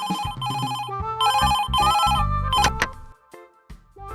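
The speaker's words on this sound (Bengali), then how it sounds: "এই সময় আবার কে ফোন করছে?" Telephone ringing with an incoming call, a loud electronic ringtone repeating its tuneful bursts close by, with no talking over it.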